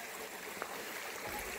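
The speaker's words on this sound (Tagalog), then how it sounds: "Ito po yung sapa." A stream in a farm lot in Del Gallego, Camarines Sur, swollen and muddy after heavy rain, gives a steady, faint broadband wash of flowing water with no voices.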